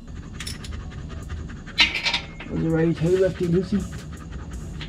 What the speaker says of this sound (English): That noise is my dog.